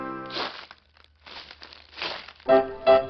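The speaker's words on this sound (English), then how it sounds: "Leaves, rustle." Dry leaves rustle and crinkle in several separate bursts with quiet gaps between them, fairly close by.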